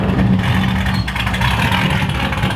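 A car engine with a newly fitted exhaust turns over and runs with a steady rumbling drone, loud and close, with no speech.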